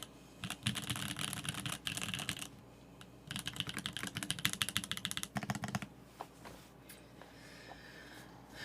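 Fast typing on a custom mechanical keyboard with a low-pitched, thocky sound, close-up bursts of dense keystrokes broken by short pauses, then lighter scattered taps near the end.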